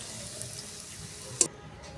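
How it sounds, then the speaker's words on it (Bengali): Carrots fry in sunflower oil, giving a quiet, steady sizzle and hiss throughout, with one brief clink near the end. "গাজরগুলো আমার ভাজা হয়ে গেছে, এবার তুলে নিচ্ছি।"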